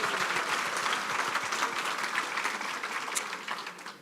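Audience applause at a town hall meeting in a venue hall, a dense sustained sound of many hands clapping that tapers slightly toward the end.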